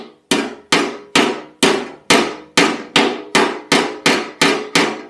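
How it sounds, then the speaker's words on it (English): Gentle tapping on a metal Lambretta scooter legshield, about a dozen evenly spaced, sharp metallic taps, each ringing briefly before decaying, close and clear with no talking. "when I tap it, you get the metal sound of the leg shield vibrating"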